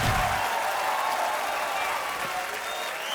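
A TV comedy show studio audience gives loud, dense applause welcoming a legendary music composer, a steady roar of clapping with crowd noise throughout.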